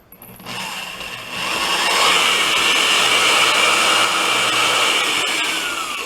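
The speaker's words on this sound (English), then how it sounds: "I'm going to drill maybe down about 1/2 inch, 3/4, about 1/2 inch from the top," A handheld power drill bores into the joint of a wooden tapered table leg, spinning up after a brief start into a steady, loud whirring whine that runs nearly unbroken for several seconds.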